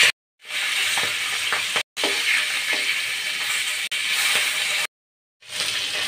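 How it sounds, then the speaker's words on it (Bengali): Pangas fish frying in a pan produces a loud, close, continuous sizzle with bubbling crackles, broken by a couple of abrupt silent gaps where the sound cuts out, and no one speaks. "মাছের এক পিঠ ভাজা হয়ে গেছে, আমি আরেক পিঠ উল্টে দেবো।"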